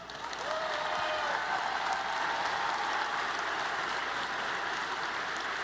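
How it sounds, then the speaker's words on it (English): Sustained audience applause fills a large arena at a FIRST robotics state championship, steady and dense from start to finish after a quick swell at the opening. "let's give them another huge round of applause"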